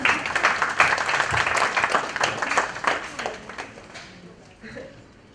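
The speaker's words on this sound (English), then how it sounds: "Applause." Applause from an audience at a book launch with Ekta Kapoor present: dense clapping starts loud and gradually thins and fades over several seconds, mixed with some crowd murmur.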